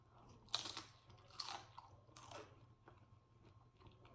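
Close, crunchy chewing of guacamole with crisp bites, three sharp crunches in the first two and a half seconds, then quieter mastication with a low steady hum underneath.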